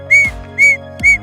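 A handmade whistle is blown in three short, shrill, bright blasts at an even rhythm, loud and close with no voices.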